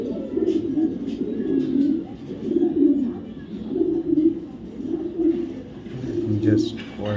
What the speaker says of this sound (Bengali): নর কবুতর